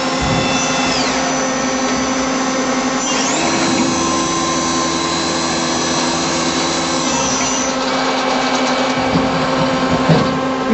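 A 1998 Star SV-20 Swiss-type CNC lathe under Fanuc control, with seven spindle axes, runs with a steady loud mechanical whine and sustained tones that shift and glide as axes move, continuous throughout with no talk.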